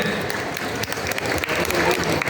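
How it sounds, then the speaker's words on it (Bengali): An audience at a celebrity appearance at Avni Mall claps in a dense, continuous burst of applause that holds steady for a couple of seconds, loud and close, with some voices mixed in. "জোরে একটা হাততালি ওদের দুজনের জন্য।"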